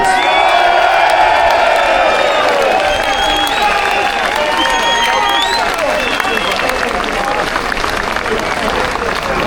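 A crowd at a march cheers and applauds, a loud continuous swell of clapping, whoops and shouts that stays near and dense for the whole stretch before slowly thinning.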